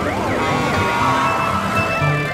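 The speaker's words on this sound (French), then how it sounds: "Regarde, un camion de pompiers roule très vite." Cartoon fire truck racing along with its siren wailing continuously, loud and close, the rising and falling tones sweeping over a busy backdrop of music or traffic.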